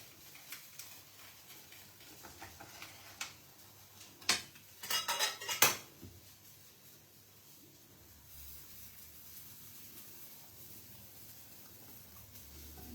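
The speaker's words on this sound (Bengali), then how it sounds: "এটাকে আমি কাটার দিয়ে কেটে দিতেও পারে" A paneer cheese sandwich being cut with a cutter on a plate, scattered clinks and scraping taps of metal against dishware, with a louder cluster of clatter midway and quiet pauses between.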